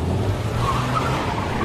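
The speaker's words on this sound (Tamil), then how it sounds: "Wheel spin, light wheel spin ஆகிட்டு போயிட்டுருக்கு." Ford EcoSport tyres spinning on a rain-soaked road, a steady rushing hiss of wet rubber over the engine's low drone, continuous and close for the whole stretch.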